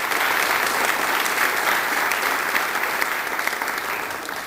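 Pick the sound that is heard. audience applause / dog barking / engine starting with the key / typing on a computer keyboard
audience applause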